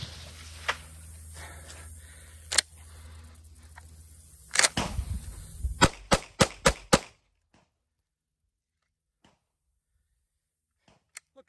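A Gen 5 Glock pistol, wet and caked with mud, fires a quick series of sharp, loud shots at close range, the last ones in rapid succession, followed by near silence with faint distant pops.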